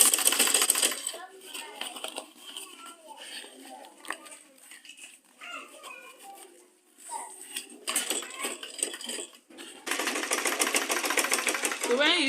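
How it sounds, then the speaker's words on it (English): A sewing machine stitches a tote bag in rapid whirring bursts: one at the start, then longer runs near the end, with quieter handling and a voice talking in the pauses between. "Make sure everything is straight. sewing it like this."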